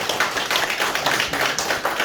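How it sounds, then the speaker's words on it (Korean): Steady clapping from a press conference audience greeting a mayoral pre-candidate in Gumi, dense hand claps filling the room at moderate loudness with no talk over them. "이양호 예비 후보께 힘찬 격려 박수 한번 부탁드립니다."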